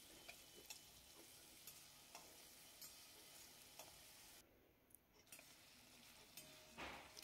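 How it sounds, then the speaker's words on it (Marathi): Tomato and ginger-green chili paste being sautéed in a pan for ragda pattis, a faint, steady sizzle with soft scraping stirs recurring about every second, a brief near-silent gap midway and a louder clatter at the end. "मिरचीचा तिखटपणा जाईपर्यंत पेस्ट परतून घ्यायची."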